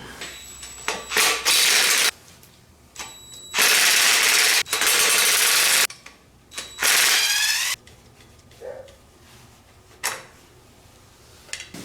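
A ratchet wrench loosens nuts held by the pump pulley on a 1951 MG TD engine, sounding in loud bursts of rapid clicking separated by quiet pauses and lighter metallic handling.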